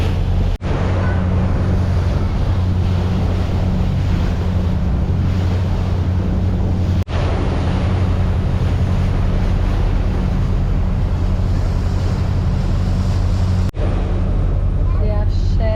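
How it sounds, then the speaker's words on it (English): Huge ocean waves surge around a public ferry heading to Malé in the Maldives. A constant loud roar of water, engine drone and wind buffeting the microphone runs throughout, broken by a couple of abrupt cuts. "There is huge waves at the moment."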